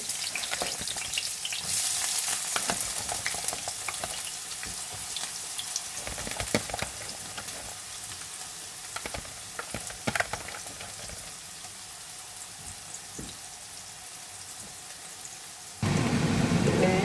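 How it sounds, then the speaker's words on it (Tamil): Steady, close sizzling of onions frying in hot tempering oil, with occasional stirring clatter and a sudden louder burst of sizzle near the end. "வெங்காயத்தை தாளிக்கப்புறம் போட்டு"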